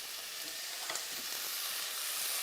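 Onion and ginger fry steadily in a pan as the base for a mushroom sauce, a continuous close sizzle with faint stirring scrapes and no voices.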